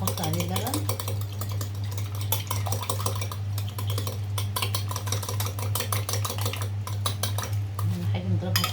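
Milk being beaten into seasoned ground meat filling in a bowl, with rapid metallic clinks and scraping of a utensil against the dish, close and continuous, with a voice speaking over part of it.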